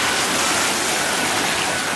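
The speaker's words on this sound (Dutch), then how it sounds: "Hier zie je heel goed hoe zo'n golfslagbaan werkt." Churning water in a theme park wave pool, its waves driven by a plank pushed back and forth; a steady, loud broadband wash like a rushing stream, continuous for the whole stretch with no voices.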